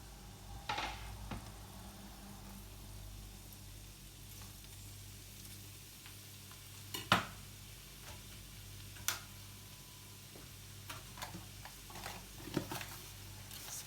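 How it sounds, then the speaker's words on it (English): Chopped onion cooking in hot oil in a pan, a soft steady sizzle running beneath a few sharp clinks and scrapes of a utensil against the pan. "sprinkle some salts on my onion just to sweat it down"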